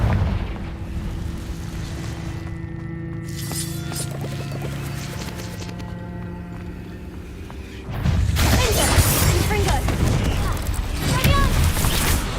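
A Confringo fire spell explodes in a Hogwarts video game. Quieter game ambience with soft tonal music gives way to a loud, sustained roaring blast that bursts in suddenly and keeps rumbling.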